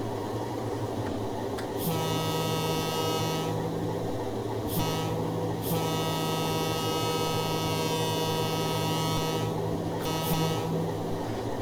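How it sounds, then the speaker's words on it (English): Erie Lackawanna C424 diesel locomotive air horn in Train Simulator, sounding in long sustained multi-tone blasts with short breaks, loud and close over a steady engine drone. "I like the air horn a lot."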